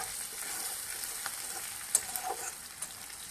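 Sliced onion fries in a pan with a soft, steady sizzle while a utensil stirs and scrapes it in a few light, irregular strokes, fairly quiet and without voices.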